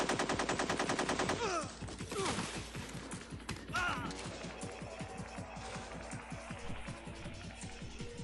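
Rapid bursts of game gunfire from Metal Gear Solid ring out in a steady rattling rhythm, close and loud, with shouted voices in the first seconds.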